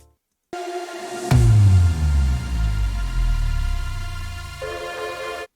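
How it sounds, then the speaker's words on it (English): Sub impact layered with a kick impact in a liquid drum and bass arrangement: after a held tone, a single hard hit lands with a deep booming low-end that decays over several seconds, while a tonal pad continues above; no voices. "Then I added a sub impact and a kick impact, and together they sound like this."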